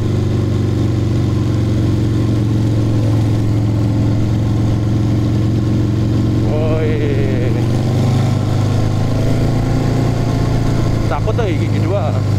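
A Harley-Davidson 1200cc motorcycle accelerates hard in first gear with a loud, steady engine drone heard from on the bike, while a rider talks over it.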